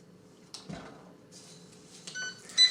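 A few short electronic beeps from an air fryer as its buttons are pressed to set 375 degrees, heard close over a steady low hum.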